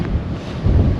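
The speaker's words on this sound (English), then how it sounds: "It is windy." High wind buffets a microphone at a dam during a car camping trip, a heavy low rumbling gust that swells toward the end of a single short burst.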